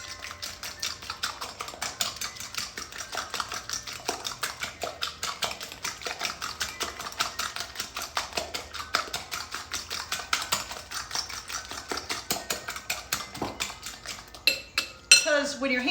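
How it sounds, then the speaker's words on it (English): Parmesan and other ingredients mixed in a bowl, making rapid, rhythmic clinking and scraping of utensil against the dish, close and steady, ending in a few louder knocks. "And another 1/4 cup of parm. And mix it up."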